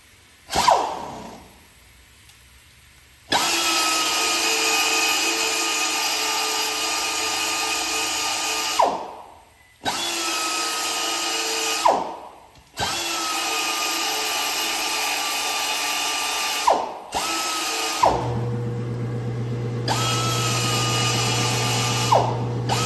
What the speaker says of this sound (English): Now you just grind off the little weld spot.